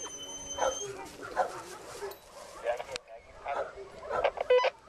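A dog whimpers and yips in short, high-pitched bursts, close by, mixed with a person speaking softly.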